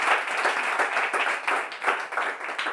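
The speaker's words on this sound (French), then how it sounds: "Vous pouvez vous applaudir, chers candidats." Bible quiz show contestants applaud one another in a steady, dense wash of clapping that carries evenly through the whole stretch without speech.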